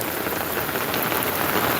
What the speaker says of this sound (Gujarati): અમારા ગામમાં આવો વરસાદ છે